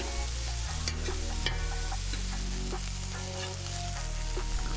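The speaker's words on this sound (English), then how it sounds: "we gotta keep mixing up our onions so they don't burn" Onions fry and are stirred on a breakfast griddle alongside sausage and bacon, a steady close sizzle with scraping spatula strokes throughout, no talking.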